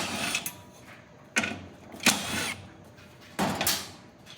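A power screwdriver or drill whirs in short bursts, three or four of them, pausing between each as screws come out of the convection fan bracket of an Austroflamm/Rika pellet stove. It sounds close against quiet room noise.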